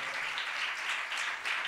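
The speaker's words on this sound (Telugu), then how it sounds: "చప్పట్లు కొడదాం, చప్పట్లు కొడదాం." A worship congregation claps together in a soft, distant patter of applause that swells and eases over a short stretch, with no voices over it.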